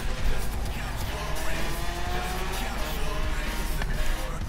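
Car engine droning steadily in the racing game Forza Motorsport 3 with the pedal held down, a continuous loud roar with faint tire noise through the whole stretch.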